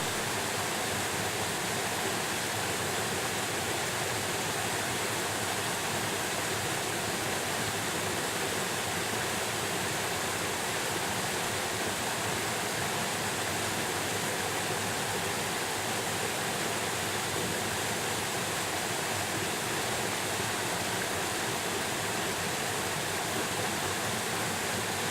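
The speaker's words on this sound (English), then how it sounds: "This is the first waterfall that we saw, near the fish hatchery." A small waterfall, about ten feet tall, near a fish hatchery in Bellingham, Washington, pours with a loud, unbroken broadband roar that stays steady throughout.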